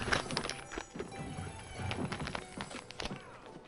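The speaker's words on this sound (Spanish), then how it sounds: "Empezaron a correr ahí los caballos solos, tío." Horses galloping in the video game Assassin's Creed Syndicate, with busy hoofbeats clattering over a dense, noisy game soundscape at moderate volume, no speech.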